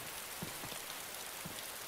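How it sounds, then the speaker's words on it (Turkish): Rain falling in the video game DayZ, a steady faint hiss of drops with a few soft patters, continuous and quiet. "Yağmur yağıyor."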